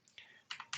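Quick keystrokes on a computer keyboard while entering a measurement in SketchUp, a few soft, close clicks spaced unevenly over under a second.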